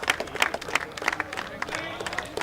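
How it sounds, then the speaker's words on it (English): A warm round of applause from the crowd at a UAE rugby international as a substituted captain leaves the field, steady scattered clapping running through the whole stretch, moderately loud and mixed under commentary voices. "a warm round of applause as he takes a well-earned drink"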